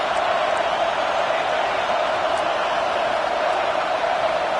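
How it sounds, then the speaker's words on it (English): A stadium crowd at an Auburn football game roars in a continuous, even wash of cheering, loud and distant-sounding with no break across the stretch. "This crowd bringing the energy and noise early."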